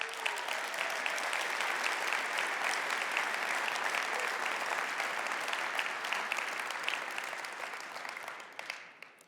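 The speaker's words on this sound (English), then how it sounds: "Please join me in giving them a big round of applause." Sustained applause from a large audience at a corporate conference celebrating 42 All-Stars from carriers, dense steady clapping filling the room for about nine seconds before tapering off at the end.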